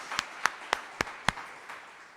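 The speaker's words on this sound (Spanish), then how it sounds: "Yo quiero dar un aplauso" Five or six distinct hand claps in a church, evenly spaced and fairly close, then a softer fading clap or two in a quiet room.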